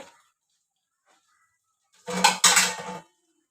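Rice served onto a plate for khichuri, a brief pair of clinking scrapes of a spoon against the plate after near silence.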